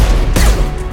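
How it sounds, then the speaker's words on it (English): A single sharp, loud concussive blast from the Concussive Shot power in Mass Effect 2, striking abruptly mid-second against steady background combat noise. "That concussive shot, though."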